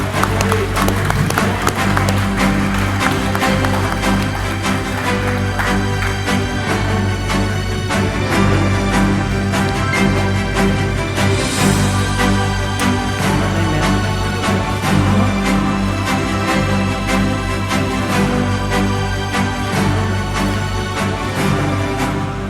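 A crowd at a national SME awards ceremony claps and cheers in a sustained, dense round of applause that stays loud and steady throughout, with music or murmuring beneath.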